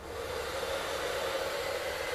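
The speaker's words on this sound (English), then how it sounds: "All right, so I got this hair dryer." Hair dryer blowing over a fresh glaze coat finish on wood, a steady, even rushing hiss of air held at constant loudness without pause.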